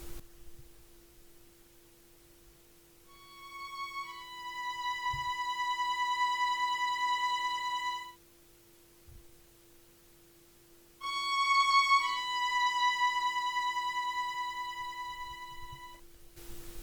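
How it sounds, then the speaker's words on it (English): A sampled solo violin from a virtual orchestra library plays a string part for a 1970s soul-style sample: two long sustained bowed notes separated by a pause, over a faint steady hum. "I then added a solo violin from Sonatina Orchestra, which will provide the string part for the sample"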